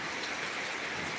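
Rain falls steadily outside a house with a corrugated metal roof, a dense, even hiss of drops with no voices over it.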